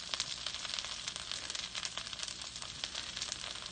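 Two potato black bean burgers sizzle in a skillet, giving a steady, bright frying hiss scattered with small crackles and pops, heard close and alone without talk.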